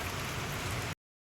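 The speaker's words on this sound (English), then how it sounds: "If you hear this noise, it is now pouring down rain" Heavy rain pours down outdoors in North Florida, a dense, steady hiss of drops beating on surfaces that stays loud throughout and cuts off abruptly, with no voices.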